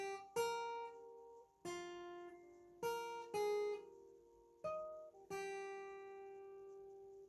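Acoustic guitar picking the intro riff of a song at a quicker tempo, six clear plucked notes ringing out one after another in an uneven rhythm, played alone with no voice.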